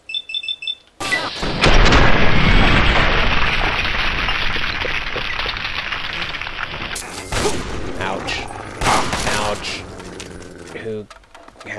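Shotgun fire in Fallout 3 comes as a loud, dense burst that sustains for several seconds, then gives way to scattered sharper bangs and clatter, with a voice speaking briefly over the action.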